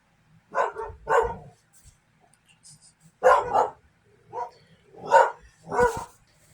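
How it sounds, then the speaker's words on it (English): A dog barking nearby indoors, six or so sharp, loud barks in two bursts: a quick double bark, a pause, then four more in a ragged rhythm. "it's my dog's just being freaking crazy"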